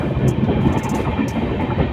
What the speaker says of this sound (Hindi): तो ट्रेन हमारी अलुआबाड़ी रोड जंक्शन पहुँच चुकी।